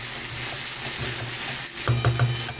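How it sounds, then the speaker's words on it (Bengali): Tomato and spices stir-fried together in a pan for a Bengali fish curry, a steady sizzle with rhythmic spoon scrapes and taps growing more frequent toward the end, close with no talk. "এবার টমেটো আর মশলাগুলো একসাথে আমি কষাবো। সব একসাথে ভালোভাবে মিশিয়ে দিই।"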